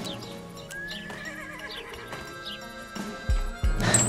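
Horse in a Wild West stealth video game, Desperados III, gives a whinnying neigh amid soft hoof clops, followed by a couple of heavier thuds near the end.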